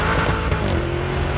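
A Lamborghini Urus with 641 horsepower in Corsa mode accelerates hard, a loud, steady engine roar with rising tone and tire noise filling the whole moment.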